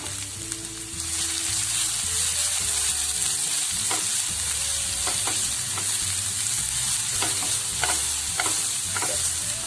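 Vegetables for homemade pasta stir-fried in a pan, a steady loud sizzle with occasional scraping clicks of the spoon, no talking.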